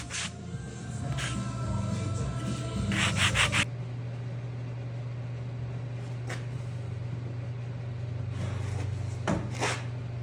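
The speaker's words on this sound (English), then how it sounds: "Little sandpaper to refine those edges might help." Sandpaper rubs along the edges of a wooden drawer in short scraping strokes, close and moderately loud, over a steady low hum, with sharper scuffs at intervals.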